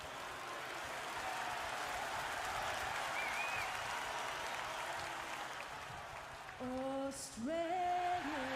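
Crowd noise at the WWE Crown Jewel wrestling event, a broad steady arena roar heard from a distance, with some cheering and whistles rising briefly near the end.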